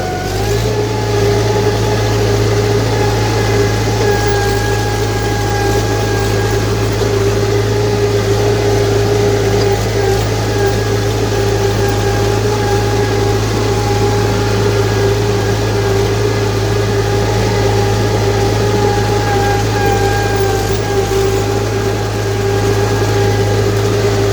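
Steady tractor engine idling in a village setting, a continuous mid-pitched hum with a strong low drone and faint whine, loud and close with no change in pace throughout.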